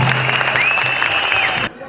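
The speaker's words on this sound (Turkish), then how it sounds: "bir alkış rica ediyorum hepimizden" Audience applause at a political speech in Turkey with the Ankara metropolitan mayor, a dense steady wash of clapping from a crowd that cuts off abruptly near the end, with a faint whistling tone riding over it.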